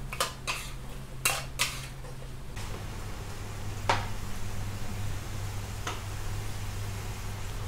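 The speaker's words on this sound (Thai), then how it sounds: "ผัดคลุกเคล้าให้เข้ากัน" Pork belly stir-fried with shrimp paste in a pan, a metal utensil clattering and scraping in several sharp knocks early on, then sparser taps over a steady frying hiss.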